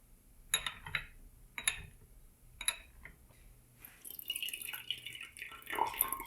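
Water is poured to brew Dragonwell green tea: a few faint, sharp drips land first, then a soft trickling pour fills the vessel, all close and quiet.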